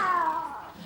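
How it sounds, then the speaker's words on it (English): A cat gives one clear, fairly loud meow, a short falling cry heard alone. "Sounds like a cat."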